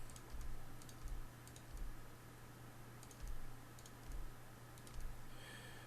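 Soft mouse clicks tap out an irregular rhythm while someone works in Photoshop, each click faint and close, with quiet gaps between them.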